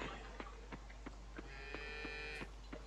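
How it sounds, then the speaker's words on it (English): Cows moo in the farming video game Coral Island, a short series of soft, repeated calls over a steady low hum, with no talk. "Right, so we have our cows."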